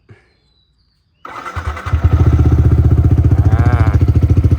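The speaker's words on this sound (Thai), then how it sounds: "มาสตาร์ทฟังเสียงเครื่องยนต์กันนะครับ" A single click, then a 2018 Yamaha YZF-R15 sport motorcycle engine cranks and roars to life, settling into a loud, steady, throbbing idle close by.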